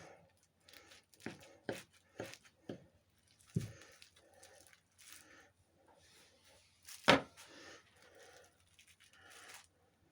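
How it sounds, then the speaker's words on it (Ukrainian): A knife slicing through homemade head cheese (zeltz) on a board, giving a series of close, soft, wet chopping knocks at an irregular pace, with one heavier cut standing out partway through. "Беремо ніж і відрізаємо."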